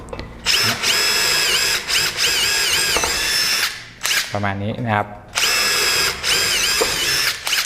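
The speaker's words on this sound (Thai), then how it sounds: "ดอกเจาะเหล็กมันใช้เจาะไม้ได้อยู่แล้วนะ" Power drill fitted with an ONISHI metal drill bit boring into wood, a loud whining motor with steady harmonic pitch running in long bursts, briefly stopping and spinning down before starting again, with a short spoken remark near the end.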